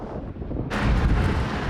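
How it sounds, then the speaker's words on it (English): Strong wind blasts across an outdoor scene in Romania, buffeting the microphone. A low rumbling rush swells suddenly into a loud, sustained roar. "Bloody wind is outrageous."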